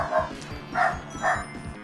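A dog barking in a room, three loud barks at even intervals, heard over background music and game sounds.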